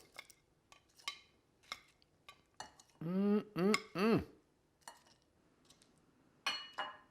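Shrimp being moved into a bowl in a home kitchen, with a series of light, separate clinks of utensils against dishes, scattered throughout, plus a brief burst of scraping mid-way.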